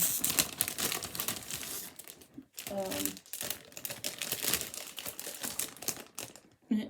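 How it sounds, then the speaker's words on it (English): Crinkling plastic or wrapper packaging from cross-stitch project materials, a dense run of papery rustles and crackles close by, briefly pausing then continuing, with talking over and between them. "All the crinkling, I'm sorry."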